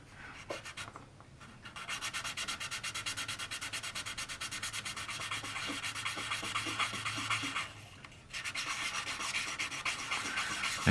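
A small wooden model ship part being rubbed with a 280 grit sanding sponge, giving a steady, close, quiet rasping scrub in quick strokes that pauses briefly twice.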